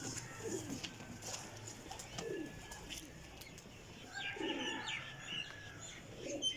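Domestic flying pigeons coo softly in a loft, their low murmurs recurring amid faint chirps and scattered outdoor noise, with no one speaking.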